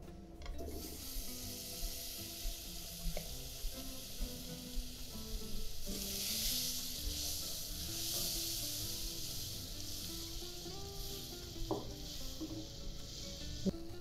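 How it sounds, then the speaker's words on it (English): Butter melting in a hot pan gives a soft, steady sizzle and hiss up close, swelling slightly midway, with faint scraping from stirring and no talking. "Start off by adding butter to a hot pan."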